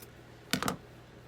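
Scissors snip through ribbon strips in two or three quick close cuts, crisp brief snaps heard alone against a quiet room.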